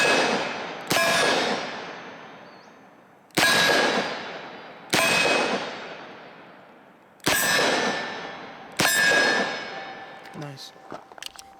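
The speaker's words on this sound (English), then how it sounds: "We're back to shooting 357 Sig Sauer ammo again" Five loud, sharp revolver shots from a Smith & Wesson Model 66 Combat Magnum with a 2.75-inch barrel firing .357 SIG ammunition at steel targets, spaced a second or two apart, each with a bright metallic ring decaying afterward and a faint clink at the end.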